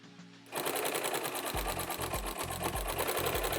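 A sewing machine stitches around the edge of a Minky blanket, starting after a brief quiet moment and then running as a fast, steady mechanical whir with rhythmic needle clatter, close and loud, with no speech.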